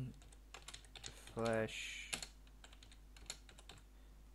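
Rapid clicking keystrokes on a computer keyboard while entering a flash command to update an Asus R9 280X DirectX CU II graphics card BIOS, close and crisp, with a brief burst of spoken words partway through.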